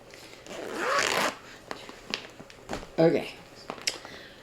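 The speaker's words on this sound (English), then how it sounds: "fighting with this zipper" A clothing zipper is yanked in a long rasping pull, followed by shorter tugs and clicks, close and fairly quiet, with people talking around it.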